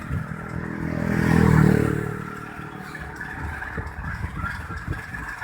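Tractors gathered at a grain market in Mohra, Ambala, for a farmers' protest: an engine swells past nearby and fades, followed by continuing idling rumble and clattering mechanical noise.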